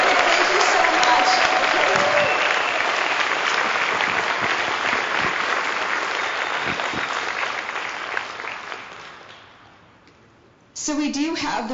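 A crowd at a humorous speech contest gives a long, dense round of applause that gradually fades out before a voice starts speaking.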